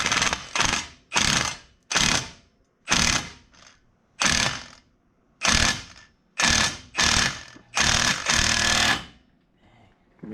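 Puller working a stuck axle out of the hub of a 2021 Polaris RZR Pro XP, a series of loud, close ratcheting bursts of grinding and clicking separated by short pauses, with no talking.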